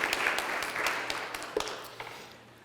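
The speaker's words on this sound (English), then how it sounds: "let's give another round of applause for our sponsors" An audience at a coaching event applauds its sponsors, a dense patter of clapping from a room full of people that gradually thins and fades.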